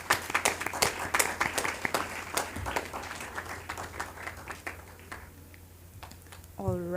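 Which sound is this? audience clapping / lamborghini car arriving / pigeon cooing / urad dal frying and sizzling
audience clapping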